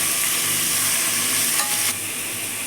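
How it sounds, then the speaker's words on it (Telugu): Onion pieces fry in a pot for a one-pot sambar rice, a loud, steady close sizzle with a brief stirring scrape near the end and no talking. "వేసి బాగా వేయించుకోవాలండి ఉల్లిపాయ ముక్కలు బాగా వేగాలి"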